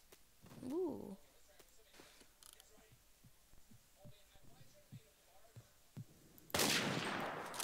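Gunfire in the Roblox shooter Phantom Forces: a string of faint, quick distant shots and clicks, with a brief voice early on, then a loud, dense burst of close rapid fire at the end.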